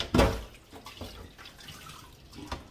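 Water drips from a guinea pig's freshly wrung-out fur after a bath, with a few soft, irregular drops and splashes against a quiet background; the first drop is the loudest.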